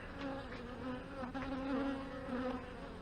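Honey bees buzz steadily at an open hive during an inspection after the honey super is lifted, a close, continuous droning hum with slight swells and no talking.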